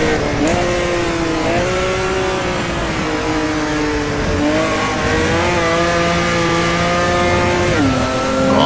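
A race car engine roars in an online racing video game, loud and sustained, its pitch rising through the gears, dropping at shifts and climbing again, with occasional tire noise.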